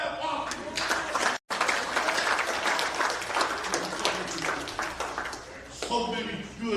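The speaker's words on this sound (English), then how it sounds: "Give God a clap off" A congregation at a church family service for a life celebration claps in a dense, lively burst with a momentary dropout, and voices rise over the applause toward the end.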